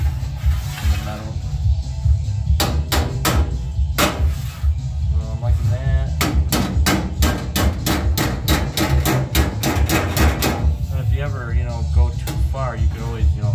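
A hammer strikes the sheet-metal body panel of a Ford shoebox custom car, loud ringing metallic blows in irregular bursts and quick rapid runs, with someone talking between and over the strikes.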